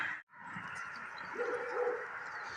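Dogs barking from behind a fence while someone is out hitchhiking toward the coast, a couple of muffled yips and barks rising mid-clip over steady outdoor ambience.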